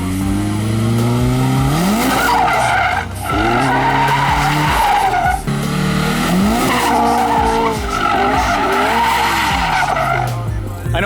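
Two cars drift in tandem on a street, tires squealing in long wavering screeches while engines rev and bounce off the limiter, loud and close, pausing briefly between slides.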